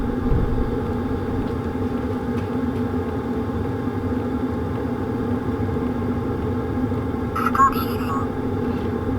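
A Sunster Toolbox TB10PRO diesel heater runs with a steady low hum and rumble. It is continuous and even throughout, with a brief higher rattle near the end.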